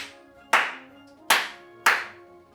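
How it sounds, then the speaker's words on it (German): Three sharp single hand claps, evenly spaced about a second apart, each crisp and close with a short ringing decay into a quiet room. "Einmal klatschen."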